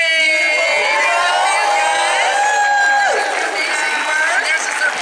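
A GalaxyCon Oklahoma convention crowd cheers Helluva Boss cosplayers, a loud, continuous wash of shouts, whoops and excited voices that holds steady throughout.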